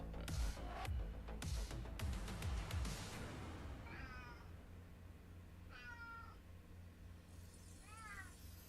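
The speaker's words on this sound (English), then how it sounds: "I can hear you meowing over my headphones" A cat meows three times, fairly close, after some thumping and rustling at the start; the meows are spaced a couple of seconds apart.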